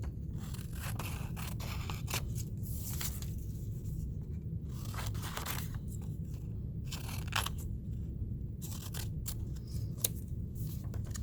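Scissors cut paper strips up close, a series of crisp snips and crunchy paper rasps in irregular bursts over a faint steady background hum, with no talking.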